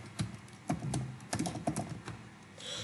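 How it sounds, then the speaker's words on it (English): Keys clatter on a computer keyboard in short irregular bursts, close and fairly quiet, with pauses between clusters of keystrokes. "So here let's type background script first."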